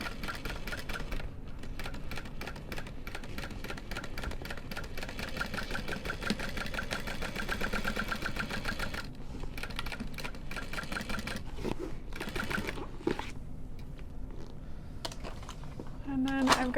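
A sewing machine runs in long, fast mechanical rattling bursts while stitching around a handbag seam allowance, close and steady, with brief pauses and a few clicks near the end.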